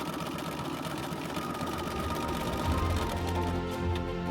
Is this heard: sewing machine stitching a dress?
yes